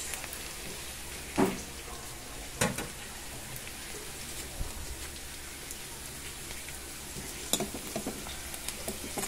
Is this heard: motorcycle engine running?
no